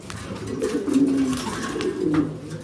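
A pigeon cooing up close, a few low, throaty, rolling coos over quiet background rustle, with no speech.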